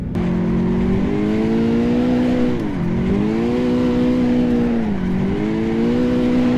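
A car engine drones loudly and close while drifting through a slalom, the pitch swelling and dipping twice as the throttle is eased and pressed again.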